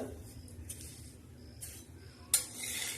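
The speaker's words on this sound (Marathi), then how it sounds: "आपण तव्यावर तीळ टाकलेली आहे आणि तीळ अशी छान अशी मस्त आता भाजून घेणार आहोत लालसर" Sesame seeds dry-roasting on a griddle: soft, faint scraping and light clinks of a spatula, then a sudden sharper scrape followed by a steady, brighter rustling hiss.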